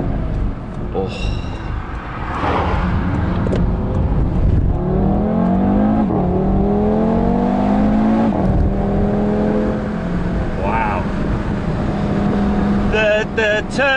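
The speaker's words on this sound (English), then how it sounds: "The turn of speed, the acceleration, and I was accelerating on a corner then." Audi TT RS Roadster (2017), Quattro all-wheel drive, accelerating hard through a corner, engine note climbing in rising sweeps and pulling loud and close for several seconds, with brief speech near the start and end.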